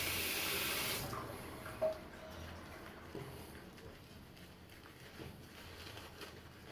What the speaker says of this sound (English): Add a bit more water.